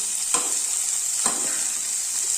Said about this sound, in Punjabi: ਪਿਆਜ਼ ਨੂੰ ਭੁੰਨਾਂਗੇ ਅਸੀਂ ਪਾਵਾਂਗੇ ਦੇ ਵਿੱਚ ਟਮਾਟਰ ਇਹਨਾਂ ਨੂੰ ਵੀ ਹਲਾ ਲਵਾਂਗੇ ਮਿਕਸ ਕਰ ਲਵਾਂਗੇ